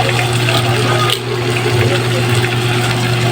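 A steady, loud stream of water pours into a cooking pot while tinola is being made, running continuously for a few seconds over a low steady hum.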